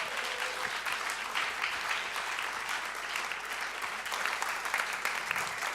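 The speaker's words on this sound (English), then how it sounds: "Give him another random applause." Sustained applause from a crowd, thick and continuous clapping that holds an even level throughout.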